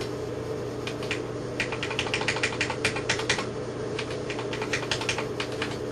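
Typing on an old IBM 5150 computer keyboard with some keys not working: irregular bursts of sharp key clicks over a steady fan hum, close and moderately loud, with no voices.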